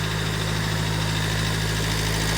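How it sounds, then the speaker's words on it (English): A Ford C-Max engine is held at raised revs during an EGR-targeted cleaning, producing a loud, steady, close droning hum with a strong low tone and no variation throughout. "We're holding a few revs on so we can target the EGR and various other sensors."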